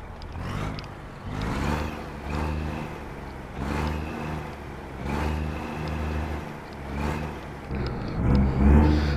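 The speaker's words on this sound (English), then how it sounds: "Go ahead, turn her on. This is the Isuzu box truck." Isuzu box truck engine in American Truck Simulator, the game engine running with a low rumble and rising revs in repeated surges, fairly loud and steady, with no talking.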